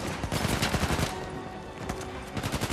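Rapid gunfire in the video game Uncharted 4, dense automatic bursts that crackle continuously at high volume for several seconds.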